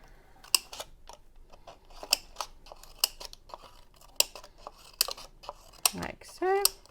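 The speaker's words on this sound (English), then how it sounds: "you take your scissors. You can make some like 1 centimeter cuts" Scissors make small snipping cuts into a recycled plastic bottle for a craft gift box, a run of crisp, close clicks and crunches at an uneven pace, ending with a longer crinkling squeak of plastic.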